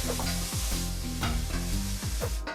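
Broccoli pan-roasting with pepper, a steady loud sizzle under repeated scraping stirs of the pan, with background music throughout.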